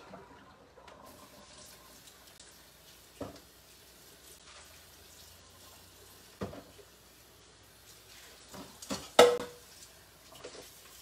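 A kitchen blender is rinsed under a running tap, with water splashing and a few sharp knocks and clatters of the jar against the sink.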